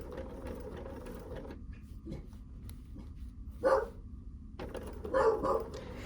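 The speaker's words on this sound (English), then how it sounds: "I bet you didn't know she can actually bark like a dog." A dog gives two short, close barks, each standing out sharply against the steady hum of a sewing machine running in a quiet sewing shop.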